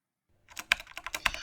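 A short sentence is typed on a computer keyboard, starting after a brief silence and turning into a quick, close burst of crisp key taps, a few of them sharper, with no one speaking.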